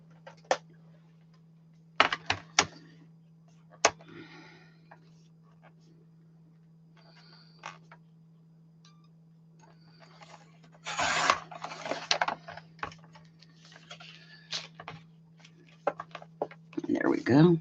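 Scored, folded craft paper gets trimmed for a card project: scattered soft clicks and dry rubbing strokes, then a louder burst of rasping cuts near the end, close and fairly quiet.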